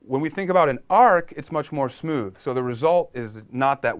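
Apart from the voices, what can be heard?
No everyday noise stands out behind the speech.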